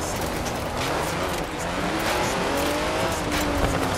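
A car fitted with smooth drift tyres drives in Forza Horizon 4, its engine droning steadily with rising and falling pitch and faint tyre squeal throughout, loud and close with no talk.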